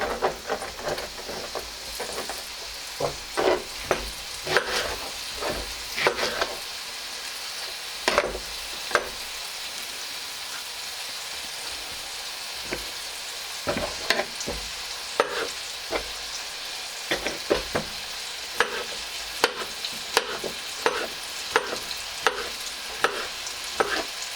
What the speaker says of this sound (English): Get them nice and golden brown in the butter.